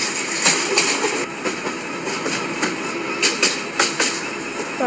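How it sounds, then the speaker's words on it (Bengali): Wheels of the Karnaphuli Express roll over rail track in a train simulator game, a continuous rumble with repeated rhythmic clicks and thumps at irregular intervals, fairly loud and without voices. "ট্র্যাক সাউন্ডটা শুনছো?"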